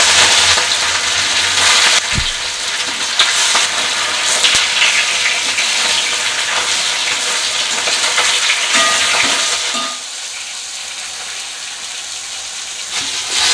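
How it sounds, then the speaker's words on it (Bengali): Pieces of katla fish sizzle in hot mustard oil in a pan, a loud, dense, continuous frying hiss with a few crackles and clinks, heard close and without any talk, easing slightly toward the end. "তেল গরম হয়ে গেছে, আমি এক এক করে মাছগুলো ছেড়ে দিচ্ছি।"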